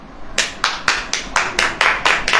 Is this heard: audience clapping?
yes